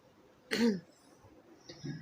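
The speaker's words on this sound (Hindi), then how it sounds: "खांसी है बहुत, खांसी खांसी बहुत है" A single short, harsh cough bursts out, followed a second later by a fainter second cough, close by in a quiet room.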